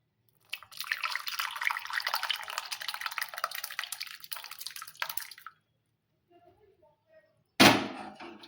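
Sweet sheer khurma poured into a bowl in a steady liquid stream lasting about five seconds, close and clear, followed by near silence, a few faint clinks, and a sharp bump of a utensil at the end.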